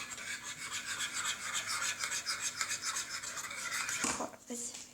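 A spoon stirs a hot melting mixture in a pan while a cake is made, giving a steady, close scraping rasp with quick repeated strokes and a couple of knocks near the end.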